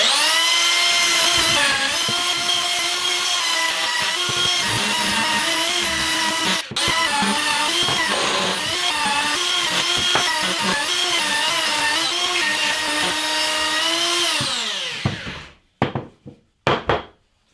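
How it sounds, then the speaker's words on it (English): A hand belt sander running over wood for shop racking: a steady, loud, whirring grind that continues for about fourteen seconds, then winds down and stops, followed by a few brief knocks, with no talking. "just get the hand belt sander out and give it a quick walk over"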